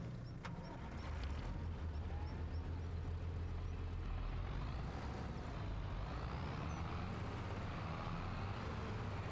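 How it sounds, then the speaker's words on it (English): Feed mixer vehicle driving in the video game Farming Simulator 25, a steady low engine drone with rumbling road noise, a brief hiss near the start, continuous and fairly quiet with no talk. "let's get the feed mixer out"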